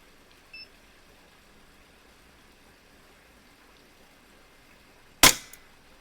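An LCS SK-19 PCP air rifle with an FX SmoothTwist barrel fires once near the end: a single sharp, loud crack with a quick decay after a quiet stretch, preceded by a faint small click.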